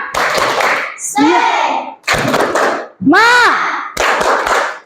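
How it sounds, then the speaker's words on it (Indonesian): Children in a classroom perform the rhythmic group 'tepuk semangat' clap, sharp bursts of unison hand claps alternating with chanted voices in a repeating pattern, loud and close. "Ayo semuanya tepuk semangat dulu."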